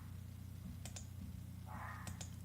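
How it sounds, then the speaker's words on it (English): Faint computer keyboard typing, two short bursts of key clicks against a steady background hum, no talking. "So I'm just typing it in exactly how it looks there."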